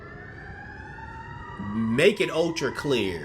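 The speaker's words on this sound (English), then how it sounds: "Them sirens getting closer, are they, right?" A steady, distant siren tone holds and slowly falls for about two seconds, then a person starts talking over it as it carries on faintly.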